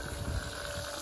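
A pump empties water out of a small boat, a brief, low, steady mechanical churn with a faint liquid wash under it.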